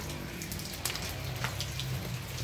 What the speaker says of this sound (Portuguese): As plantinhas agradecem essa maravilhosa chuva.